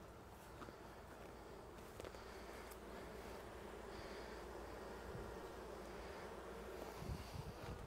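Honey bees buzz steadily around a shallow comb honey super being cleared of bees outdoors, a continuous insect drone with faint wind and occasional light handling noises.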